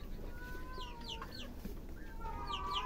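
Hens clucking in a backyard flock of laying chickens, a scatter of short squawky clucks and chirps over light outdoor background noise, no talk.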